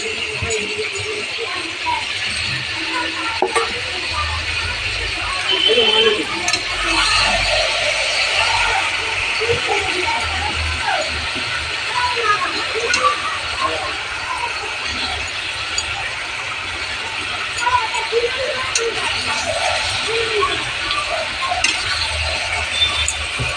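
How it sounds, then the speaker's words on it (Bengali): Chicken being stirred and fried in a pan with green chillies and ginger paste, a continuous soft sizzle with scraping and rattling of the spoon, while a person talks throughout. "দেখুন চিকেনটাকে আমি দিয়ে দিয়েছি এবারে নাড়তে থাকবো"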